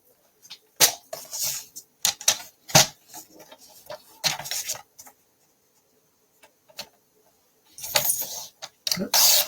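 Snips from scissors cutting a paper card into halves, short crisp bursts separated by pauses, with a voice talking between some of the cuts.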